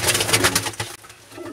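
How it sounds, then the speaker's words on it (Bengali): Several pigeons coo loudly and close in a loft that houses Rampuri cross-breds and a pair of Golalal and Azan breed birds, with overlapping throaty calls repeating steadily throughout. "এখানে একজোড়া গলালাল এবং আজান ব্রিডের কবুতর আছে"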